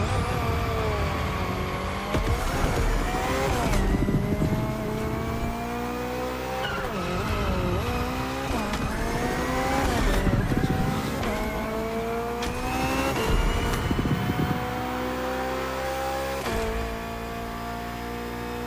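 A BMW hybrid V8 race car in The Crew Motorfest roars through a race, engine pitch climbing and dropping through gear changes, with tyre squeal and skids, loud and continuous with no voices.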